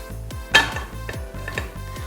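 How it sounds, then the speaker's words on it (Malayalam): A metal pressure cooker is picked up and handled in a home kitchen while preparing to bake a cake, with ringing metallic clanks and clinks in quick succession close by and no voices. "അപ്പോൾ നമുക്ക് ഒരു കുക്കർ എടുത്ത്"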